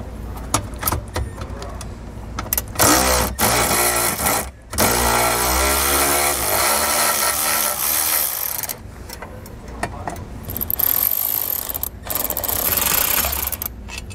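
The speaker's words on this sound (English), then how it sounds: "We're going to go ahead and remove those with a 10 millimeter socket." A 10 millimeter socket backs out bolts on a vehicle during installation of a plug-in wiring adapter for an electric brake controller, heard as close bursts of whirring tool noise and clicking ratchet-like mechanical sounds with short pauses between.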